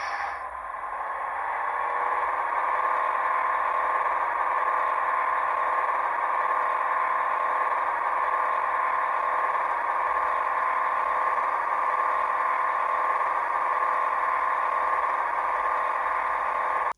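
Hornby HM7000 sound decoder playing a Class 68 model locomotive's diesel engine profile through a small sugar cube speaker: a steady, raspy mid-range drone that holds level for the whole stretch with no talk.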